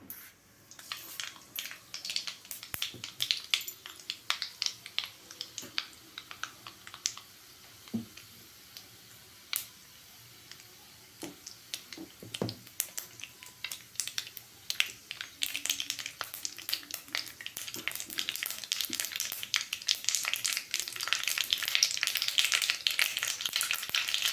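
Mustard seeds pop and crackle in hot oil in a pan for an eggplant stir-fry, a dense, uneven spatter of sharp snaps that grows busier and louder toward the end.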